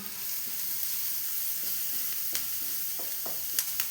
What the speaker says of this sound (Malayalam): നമ്മൾ എരിവിനാവശ്യമുള്ള മുളക് പൊടി എന്നിട്ടൊന്ന് ഇളക്കി കൊടുക്കാം